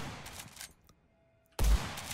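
Gunfire in the video game Blood West: a burst of shots, then a near-silent pause, then another loud, abrupt blast of fire close up.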